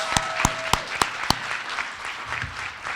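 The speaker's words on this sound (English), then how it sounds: "Give him a great round of applause." An audience at an awards ceremony claps, opening with a few loud, close, spaced claps and then settling into steadier, softer applause from the room.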